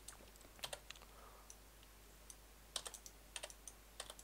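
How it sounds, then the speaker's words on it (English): Quiet, close computer keyboard taps come in scattered clusters of quick clicks over a faint hum while someone works through shortcuts in FL Studio music software. "I'm pressing keyboard shortcuts before I even know what I want."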